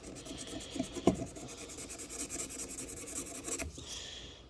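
Steady rubbing strokes of 220-grit sandpaper across soldered HO scale model railroad rails, a soft rhythmic rasp heard up close, with a sharper scrape near the middle.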